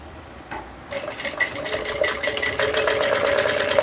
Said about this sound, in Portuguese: eu vou fazer o fechamento do bolso aqui, em pé de máquina